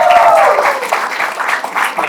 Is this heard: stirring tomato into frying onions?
no